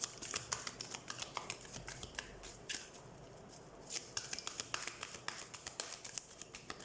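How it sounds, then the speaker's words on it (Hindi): Tarot cards being shuffled by hand, rapid riffling and soft slapping bursts in quick succession, close and quiet, without speech. "तो सबसे पहले हम कार्ड शफल कर लेते हैं"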